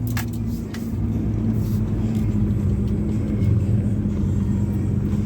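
A 2003 Dodge RAM 3500 dually pickup rolling slowly, its engine a steady low rumble heard from inside the cab, with a few faint clicks and rattles over the top near the start.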